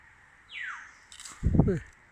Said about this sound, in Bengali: ও পাখির ডাক করে সুন্দর